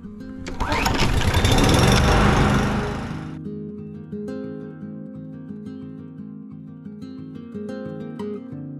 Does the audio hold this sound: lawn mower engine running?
yes